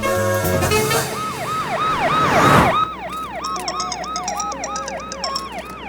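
Wailing ambulance siren sweeping up and down in a steady repeating rhythm, loud and close at first over music and noise, then continuing slightly quieter after an abrupt change in the background.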